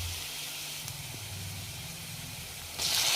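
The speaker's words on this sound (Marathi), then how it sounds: "कांदा तेलामध्ये व्यवस्थित परतून घ्यायचा आहे." Chopped onion with garlic and cumin frying in hot oil, a steady soft sizzle and hiss throughout that swells suddenly louder near the end.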